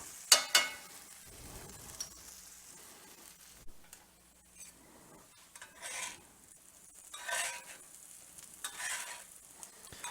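Rehydrated freeze-dried potatoes fry in a pan with a quiet, steady sizzle, broken by occasional sharp scrapes and clinks of a utensil stirring them.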